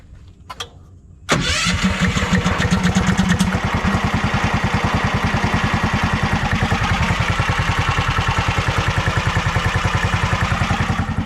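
A Predator 459 engine on a golf cart build cranks and catches after about a second of quiet clicks, then settles into a loud, steady, rapidly pulsing idle that runs on alone for the rest of the clip.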